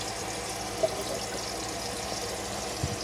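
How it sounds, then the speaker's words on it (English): Water runs steadily from the sink tap of a Hymer camper van, a continuous close hiss of flow with a couple of faint knocks. "you'll be able to use the tap, which is also your shower head"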